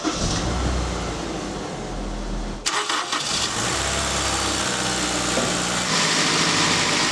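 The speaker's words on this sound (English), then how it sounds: "So we'll start the vehicle, and you should feel a very, very slight vacuum." A Honda S2000 engine cranking and catching, starting cold after a short silence, then settling into a steady close idle with no voices over it.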